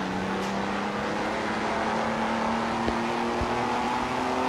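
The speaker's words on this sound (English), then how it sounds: "but I think it might be the DeLorean turbo." A DeLorean rear-engine car with a turbo in the Greenville driving game, its engine droning steadily and slowly rising in pitch, loud and continuous throughout with no talking.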